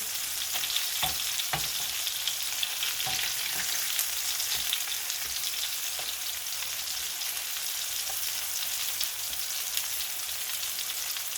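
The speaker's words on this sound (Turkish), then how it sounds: "iki tarafını kızartmaya devam ediyorum" Tomatoes and eggs sizzle and crackle steadily in a hot pan, a dense hiss with scattered pops and a few soft clinks.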